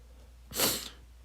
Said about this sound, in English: Sorry about sniffling here. I don't really have any way to stop it. I'm still battling this cold.